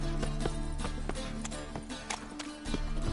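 Hooves clip-clop in a steady galloping rhythm from a horse in The Witcher 3 video game, close and clear over faint game ambience.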